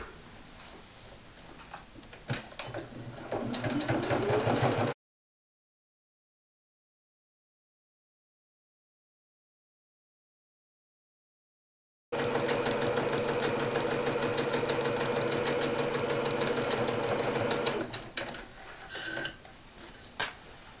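A sewing machine top stitches a channel beside a cinch gusset, running in a steady mechanical whir with a rapid needle rhythm. Two stretches of stitching are split by a long silent gap, and each starts and stops abruptly.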